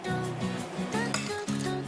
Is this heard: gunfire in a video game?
no